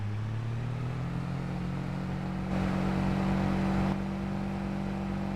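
A tractor or farm vehicle engine in the video game Farming Simulator 22 hums steadily and loudly throughout, with a brief rise in intensity midway as it pushes a little harder, then settles back to a constant drone.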